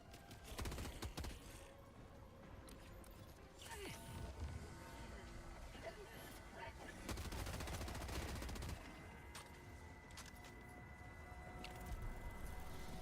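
Rapid weapon fire bursts out in the video game Helldivers 2, with quick cracking volleys and short pauses, faint in the mix under game ambience and someone talking.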